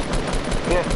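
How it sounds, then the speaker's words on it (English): Rapid gunfire in the Fortnite video game, a dense burst of shots running continuously through the moment with no gap, loud and up close. "Keep shooting him."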